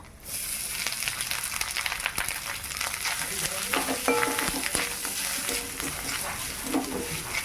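Grated coconut frying and being stirred in a pan after ginger, chilli and panch phoron, with a steady close sizzle and scraping stirs throughout, no talk.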